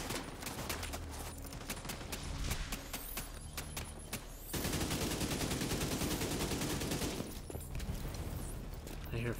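Gunfire in the video game The Division 2 rattles in sustained, loud automatic bursts with dense crackling shots and a few heavier booms, continuing throughout.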